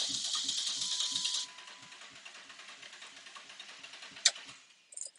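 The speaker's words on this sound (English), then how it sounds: "I can hear something out the exhaust. It's like boom boom boom boom." A 2008 Dodge 1500 pickup with multiple misfires cranks over, with a fast rhythmic chugging pulse that fades as the starter slows. A sharp knock follows near the end, all fairly faint and without talk.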